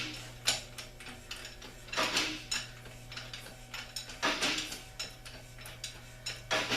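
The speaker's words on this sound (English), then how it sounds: "You put the large oversized bushing driver on." An oversized bushing driver seats a bushing in a 4L60 transmission with a series of quiet, irregular metallic knocks and clinks over a faint steady hum, and no talking.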